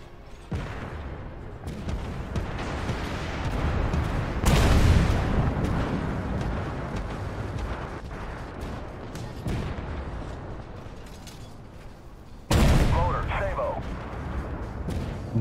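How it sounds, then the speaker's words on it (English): Tank cannon fire in the armored-vehicle battle game Armored Warfare: heavy booming shots that burst out loudly at intervals over a rumbling engine bed, with someone talking between them. "Why are you shooting at me?"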